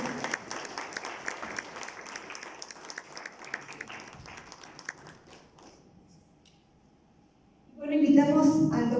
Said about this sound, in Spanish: Vamos a brindarle nuevamente un fuerte aplauso,